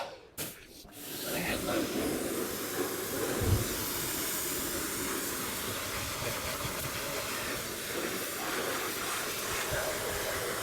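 A pressure washer hose sprays a Volkswagen Golf R32 Mk4 in a steady, loud hissing blast that runs almost unbroken near the car, with a short gap near the start.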